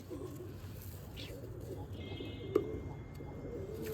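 Pigeons coo softly amid steady outdoor crowd noise at a pigeon flying tournament held by a pigeon club on Sultanwind Road in Amritsar, with murmuring voices and a sharp knock partway through.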